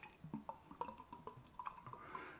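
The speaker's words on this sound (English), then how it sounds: "you can hear there's water in there already." Water drips and trickles in a QShave shaving bowl, a quick series of faint, close, irregular plinks and splashes with a brief swirl near the end, no voices.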